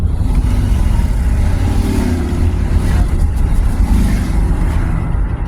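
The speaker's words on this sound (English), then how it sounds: "about to hear some motorcycles." Motorcycles roar past outdoors as a loud, continuous engine rumble that swells and holds for several seconds, deep and heavy with no voices over it.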